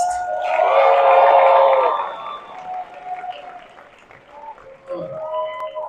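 Crowd applause at a haunt industry convention, loud clapping and cheering that peaks early, then fades as a voice speaks over the quieter tail.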